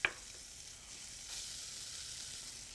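Blanched scallops sauté in a hot pan with a steady, soft sizzle after a sharp initial clink, the frying hiss continuing evenly and fairly quiet throughout.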